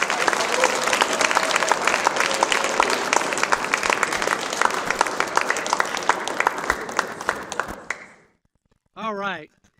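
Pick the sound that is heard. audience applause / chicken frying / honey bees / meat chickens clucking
audience applause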